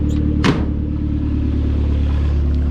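A turbocharged 2000 Mazda Miata with a 1.8 BP engine drives along, steady loud low engine drone with a sharp burst near the start, continuous and close with no voices.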